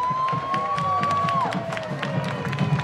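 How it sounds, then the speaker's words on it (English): A crowd cheers and calls out at a high school homecoming parade, a continuous rumble of voices with a long whistle tone sliding over it near the start. "And you can hear the crowd there."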